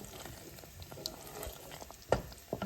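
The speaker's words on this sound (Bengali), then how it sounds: "আর এখন আমি সিদ্ধ করে এখন একটু ফ্রাই করে নিলাম" Boiled ridge gourd fries in a pan with a soft, continuous sizzle and crackle, close by and fairly quiet, with a few sharper clicks of stirring near the end.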